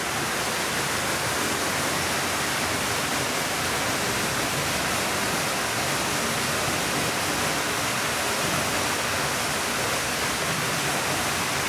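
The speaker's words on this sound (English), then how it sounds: "the water comes through the station and then into this chute and then joins back up with the main river" River water pours steadily through a chute beside a station before rejoining the main river, a dense, constant rushing roar with no pauses, close and loud throughout.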